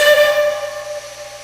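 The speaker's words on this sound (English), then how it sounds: "The rear whistle is a very unique one. It's known as a mockingbird whistle." A steam train's two-chord mockingbird whistle fades out in a sustained, echoing tail that rings briefly and decays close by.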